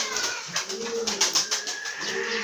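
A male pigeon coos softly and repeatedly at close range, its low throaty notes rising and falling over faint background noise.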